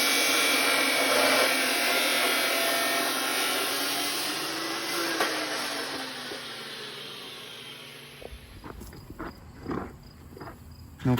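A power tool cuts metal off a minivan being converted into a truck, a loud, steady, high grinding whine for about eight seconds that then stops, followed by a few clanks and knocks.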